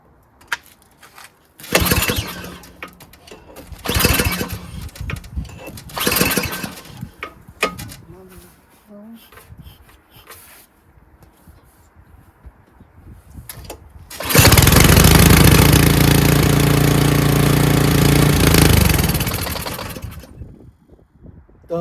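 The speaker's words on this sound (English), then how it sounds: "Fuel shut off on. Motor running." Ariens Deluxe 24-inch snowblower engine being cranked in several short, loud pulls with pauses and handling noise between them, then catching and running steadily for several seconds before fading, with brief talk.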